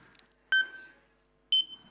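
A countdown timer gives two sharp electronic beeps about a second apart, each clean and loud against a near-silent background.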